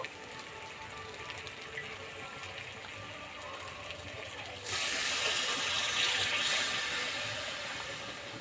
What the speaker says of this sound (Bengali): এবার অল্প একটু জল দিয়ে দেব